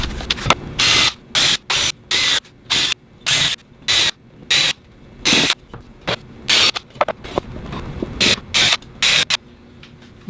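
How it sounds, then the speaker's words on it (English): Holes being drilled through a sewing room shelf from the inside, heard as a rapid series of short, sharp bursts of about twenty trigger pulls with brief quiet gaps between them. "so that I can drill the holes from the inside outward"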